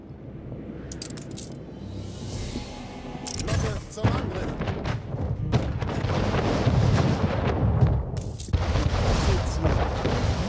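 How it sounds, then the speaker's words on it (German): A ship comes under cannon fire in Anno 1800, with heavy booms and sharp metallic impacts scattered over a dense, loud rumbling background of battle noise. "Schiff unter Beschuss."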